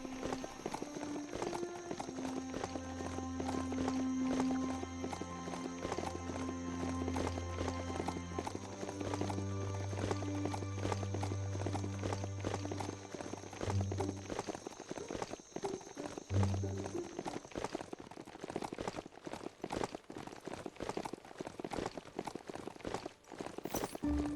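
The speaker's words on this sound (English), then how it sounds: "Doesn't riding a beast like this feel good?" A ridden beast in the video game Biomutan plods along in steady clip-clop footfalls, hooves thudding rhythmically over a continuous game music bed, loud and close throughout.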